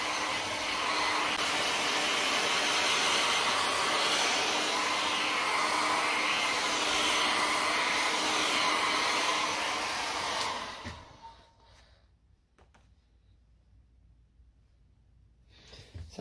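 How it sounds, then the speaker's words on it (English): A steady, loud whooshing hair dryer blows continuously for about ten seconds, then cuts off, leaving near silence. "The hair dryer."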